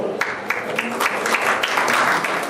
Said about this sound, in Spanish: Les pido un aplauso para Fernanda, por favor